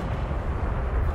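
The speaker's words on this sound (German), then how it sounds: "Da hat gerade irgendwas geschossen" Distant tank gunfire and battle rumble in War Thunder, heard as a dense, loud low-end roar that holds steady with no clear separate shots and no talking.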